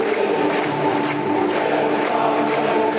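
A packed sellout stadium crowd of about 18,000 at a Millwall versus Blackburn Rovers football match, a steady loud roar of massed voices that swells and surges without a break.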